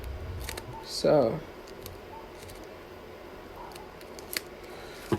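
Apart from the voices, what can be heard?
scissors cutting the sides off a plastic bag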